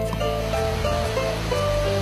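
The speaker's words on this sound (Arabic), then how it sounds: "ليس ببعيد عن لاغوناق تستقبلك شلالات روفابوا" Rufabgo waterfalls in Adygea give a steady, broadband rush of falling water, heard continuously beneath a layer of music.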